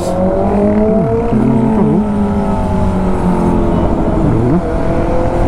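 A loud Honda CBR600 sport motorcycle engine roars close by on a road in Tanauan, Batangas, its pitch rising and dipping as it revs and passes, with no talk over it.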